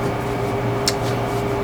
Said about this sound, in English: You might hear the freeze dryer running in the background.